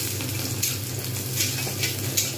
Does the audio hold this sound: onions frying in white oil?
yes